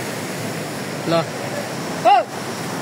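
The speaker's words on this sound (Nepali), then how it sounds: "खोला ठुलो छ हाम्रो" A large mountain river roars as a steady broadband rush in a hillside cardamom-growing area of Terhathum, continuous in the background while a voice briefly speaks over it.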